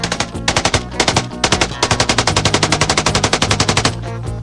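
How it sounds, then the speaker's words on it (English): A 1917 water-cooled machine gun fires in loud, close, rapid bursts, short strings of shots broken by brief pauses before a long sustained run of evenly spaced rounds. "The 1917 water-cooled machine gun."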